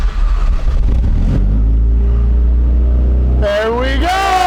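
Fully built Mazdaspeed3 track car starts for the first time: a loud, close engine rumble surges, then settles to a steady idle, and excited voices break in near the end.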